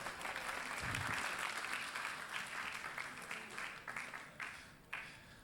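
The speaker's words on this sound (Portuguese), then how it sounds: "Uma salva de palmas aqui para o Mairo." Workshop audience on storytelling giving a round of applause, steady dense clapping from a room full of people that holds evenly, then thins out into scattered claps toward the end.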